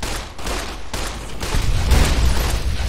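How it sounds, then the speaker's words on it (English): Rapid gunfire from Fallout: New Vegas, a dense fusillade of overlapping shots that swells louder in the second half, near and loud, with no talk. "let's use a gun"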